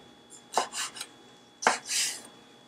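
Knife slicing de-stemmed, seeded peppers into thin strips on a cutting board for a vegan lasagna, giving two quick clusters of crisp cuts and scraping strokes, close and fairly quiet with no talk.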